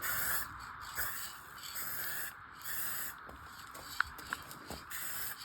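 Spray paint is misted lightly in short, soft hissing bursts with gaps between them, quiet and close, dusting blue and pink colour for a space-effect artwork.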